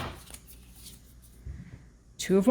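Tarot cards being shuffled in the hands, a soft papery riffle running through the clip that ends in a louder burst of handling, with a voice speaking faintly underneath.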